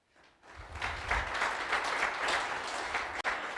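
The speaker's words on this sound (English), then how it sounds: "So please, a round of applause" A live audience at a veterans' heritage event breaks into sustained applause, building quickly after a brief quiet start and holding steady as a wash of many hands clapping at moderate distance.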